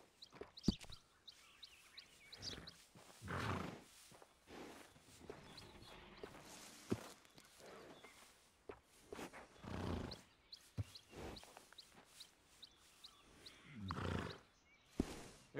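Horse in Red Dead Redemption 2 snorting and whinnying over steady hoof clops, with several loud, breathy bursts rising above quieter game ambience; no talk.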